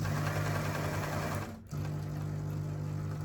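A home sewing machine stitches a fabric gift bag made from spare cloth, its steady motor hum and rapid needle rhythm running loud and close, briefly stopping near the middle before starting again, with no voices.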